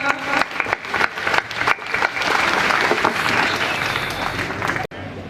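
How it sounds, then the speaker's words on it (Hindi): Loud applause from an audience welcoming lecturers at a fresher's party at DIET Sultanpur, irregular claps building into dense clapping that cuts off abruptly near the end, with some voices underneath. "कृपया जोरदार तालियों से स्वागत कीजिए हमारे प्रवक्ताओं का।"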